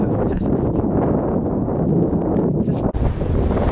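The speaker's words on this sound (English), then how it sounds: "It's very windy" Strong gusty wind roaring across the microphone in Hawaii, loud and continuous, with a brief dip near the end.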